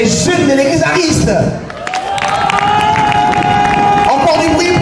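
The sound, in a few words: youth crowd applauding and cheering in church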